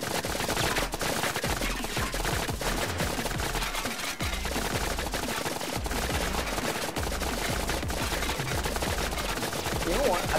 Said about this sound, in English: sitting here and listening to gunshots the entire time